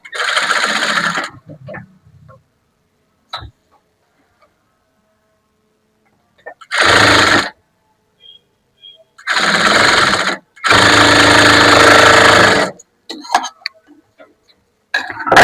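A sewing machine stitching a churidar runs in short separate bursts of rapid whirring, loud and close, with quiet pauses and small clicks between the runs.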